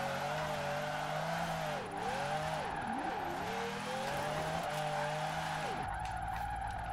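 A Ferrari 599 drifting in Forza Horizon 4, its engine holding a steady high drone while tires squeal in repeated swooping pitch bends as the car slides, loud and continuous with no talk.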